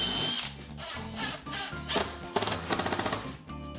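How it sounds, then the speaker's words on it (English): Power drill boring a pair of countersunk holes through a wooden wing into a support block on a mobile miter saw stand, with steady whirring runs followed by a rapid chattering burst as the bit bites, close and fairly loud, no talk. "I first countersunk and drilled a pair of holes through the wing into the support block"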